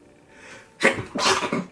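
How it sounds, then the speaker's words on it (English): A single person sneezes twice in quick succession, close and abrupt, after a brief breathy intake. "I'm gonna sneeze."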